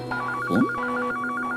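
A telephone rings with a quick repeating electronic trill, close and fairly loud, in a short burst with no one talking.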